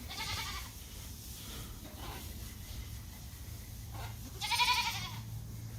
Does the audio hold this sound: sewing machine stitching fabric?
no